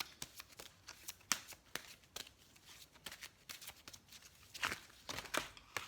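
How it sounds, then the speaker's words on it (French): Oracle cards being shuffled by hand, a quiet sequence of brisk riffling and sliding bursts in an uneven rhythm, close up and faint, with no talk. "Je vais peut-être tirer une petite carte du l'oracle de l'amour, non, les anges de l'amour"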